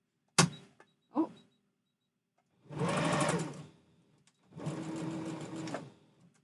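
Sewing machine stitching fabric for a Santa hat, heard as two sustained whirring runs of about a second and a half each, preceded by a couple of short clicks and bumps, close and moderately loud with no talk.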